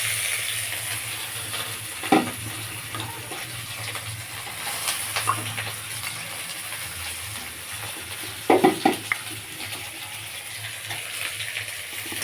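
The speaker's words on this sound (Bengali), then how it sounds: "জিরে আর তেজপাতাটা একটু হালকা করে ভেজে নেব।" Chopped onion, garlic, cumin and bay leaves fry in a pan with a steady soft sizzle, broken by a few clinks and scrapes of a stirring spoon.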